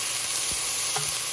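Ginger and garlic paste frying in a pan while being stirred around, a steady close sizzle with a couple of soft scraping stir sounds, no talking.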